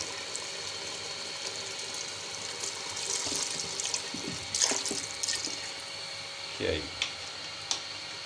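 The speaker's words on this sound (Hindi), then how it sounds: "4 से 5 मिनट इसकी भुनाई कर लेंगे और इसमें थोड़ा सा पानी ऐड कर देंगे।" Water is poured into a pan of turnip and meat curry (shaljam gosht), making a faint running, splashing sound over a low background hiss with a few clinks.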